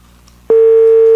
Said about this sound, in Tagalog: Telepono na, pero ang telepono mas hindi magsabat.